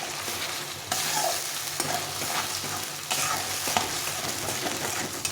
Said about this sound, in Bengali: স্বাদ মতো লবণ আর পরিমাণ মতো হলুদ গুঁড়ো দিয়ে ভালো করে মশলাটাকে কষিয়ে নিতে হবে।